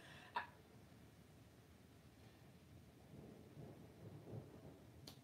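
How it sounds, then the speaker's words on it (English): Low, faint thunder rumbles in the distance, rolling softly in the background with a brief sharp click near the start. "Do y'all hear the thunder in the background?"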